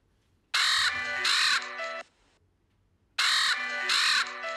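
A voice mimicking a father crow gives two pairs of loud, hoarse caws close up, separated by a clear pause of silence.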